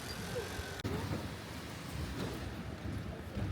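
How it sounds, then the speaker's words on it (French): Heavy rain pours in a steady, dense hiss that fills the whole stretch, close and fairly loud, with a brief sharp knock near the start and no talk heard. "Il pleut à verse juste après mon brushing"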